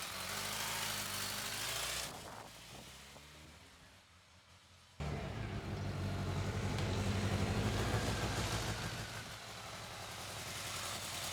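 A BMW K1200S motorcycle engine idles after an oil change, a low steady rumble nearby that dips for a few seconds, then returns just as strong.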